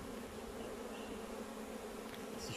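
A honeybee swarm hums near the hive, a dense steady buzz of many bees holding even and close throughout, with no voices.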